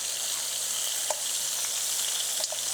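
Thick cut bacon sizzles steadily in a pan, a loud, even crackle with a couple of soft clicks from a utensil touching the pan.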